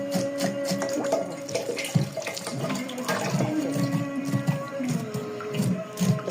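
Tap water runs while something is rinsed clean underneath it, a continuous splashing flow with irregular clatter and handling knocks, close and fairly loud.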